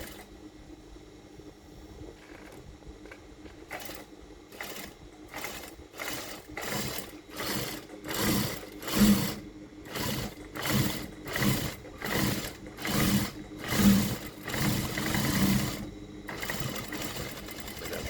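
A sewing machine stitches a seam on a slanted side pocket of a pair of trousers, running in repeated short, steady bursts of rapid mechanical whirring with brief pauses between, close and moderately loud.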